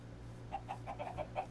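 Chickens in the Minecraft video game give a string of soft, quick clucks over a steady low hum, modest in level and fairly close.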